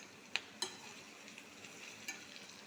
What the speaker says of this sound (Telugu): బాగా వేగిపోతుంది.